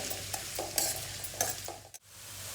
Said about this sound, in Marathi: तेल गरम झालेलं आहे आता कांदा टाकू कांदा थोडासा लालसर करून घ्यायचा आहे